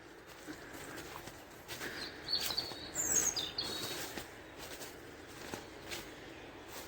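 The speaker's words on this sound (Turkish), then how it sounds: "Kuş sesleriyle beraber bayağı güzel bir ortam" Scattered birdsong and faint chirps drift through a quiet forest at Karamandere, Çatalca, Turkey, a few calls standing out midway over a soft, steady hiss.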